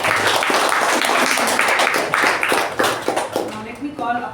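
Audience clapping at a Toastmasters meeting: loud, dense clapping from a room of people, tapering near the end as a voice begins speaking.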